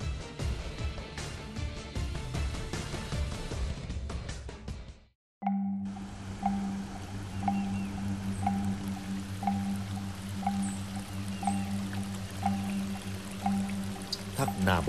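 The Na Bo waterfall in Hua Pang commune, Moc Chau, Son La, gives a continuous rushing, pouring sound. A brief cut interrupts it partway, and a voice talks over the water.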